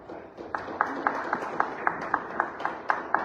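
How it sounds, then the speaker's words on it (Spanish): Crowd clapping at a political rally in Huancayo after Abel Salazar Chinchilla, a Senate candidate, is introduced: a steady patter of hands with sharper claps standing out at a fairly regular pace, moderately loud. "Fuerte palmas para él."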